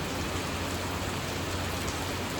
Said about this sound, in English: with this downpour of rain